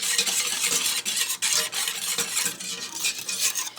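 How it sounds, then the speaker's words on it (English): A mixture whisked in a pan on a stovetop for a spicy keto protein-sparing meal, a continuous close scraping and swishing with brief metallic taps against the pan, steady and fairly loud throughout. "I'm gonna whisk this."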